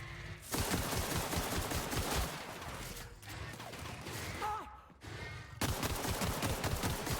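Rapid, dense gunfire from a firefight in The Outer Worlds video game, loud and close, with bursts of automatic fire layered over one another, a brief lull near the middle, then renewed heavy shooting.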